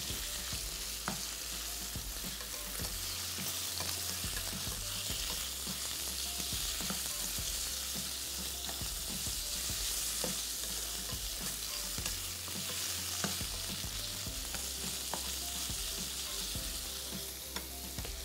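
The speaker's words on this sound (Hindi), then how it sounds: "इसमें ये जो चिकन है ये हमने शामिल करके अब इसको फ़ौरन के फ़ौरन हमने फ्राई कर लेना है" Chicken and garlic frying in a pan for a Thai dish, a steady, loud sizzle with scraping stirs running throughout, no voices.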